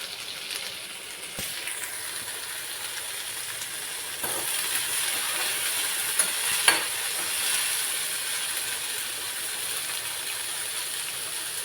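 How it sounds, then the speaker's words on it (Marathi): Green chillies sautéing in a pan, a steady soft sizzle of frying with a few light clinks of a spoon stirring, close and continuous with no talk. "परतून द्यायचं चांगलं त्याला"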